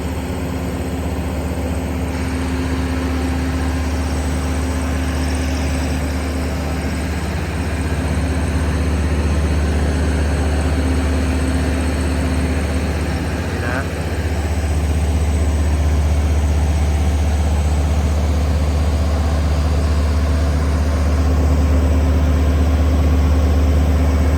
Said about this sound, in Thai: นี่ก็เป็นรถนอน JR จำนวน3 คันเลยทีเดียวนะครับ พุ่งมาทีเดียว 3 คันนะ